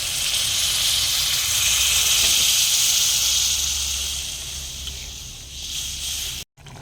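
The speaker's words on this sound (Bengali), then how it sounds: "এবার আমি জল দিয়ে দিলাম।" Water poured into a pan of potatoes frying in spices sets off a loud, bright hiss of steam and sizzling, which slowly fades before a brief cut near the end.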